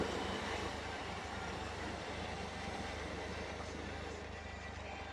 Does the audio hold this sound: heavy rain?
no